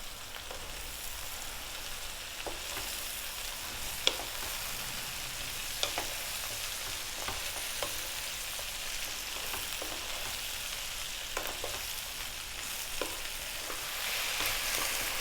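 Chinese cabbage and tofu stir-fried with garlic and ginger in a hot pan give a steady, close sizzle and crackle, with scattered spatula scrapes and taps along the way and no talking.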